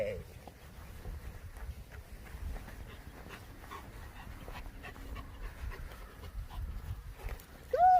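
A dog pants rhythmically during leash training in a yard, soft quick breaths close to the microphone, with faint footsteps and a brief whimper near the end, and a person's voice faintly in the background.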